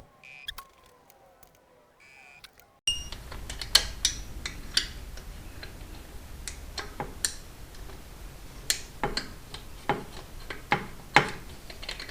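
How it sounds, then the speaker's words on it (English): Sharp ratcheting clicks from a torque wrench tightening engine bolts to 20 foot-pounds in a crisscross pattern on a 2006 Ultra Classic motorcycle during cam chain tensioner replacement, sounding as a close, irregular series of ticks after a quiet start. "So I'm tightening them to 20 foot-pounds, and I'm going to be doing a crisscross pattern."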